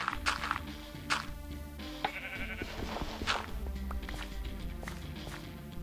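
Sheep bleat several times in a Minecraft modded survival game (FTB Ultimate), with repeated calls over busy background music and footstep sounds, moderately loud throughout.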